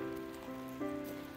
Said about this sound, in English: Yeah, here comes the rain harder.